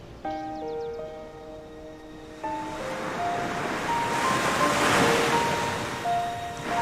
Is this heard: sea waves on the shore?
yes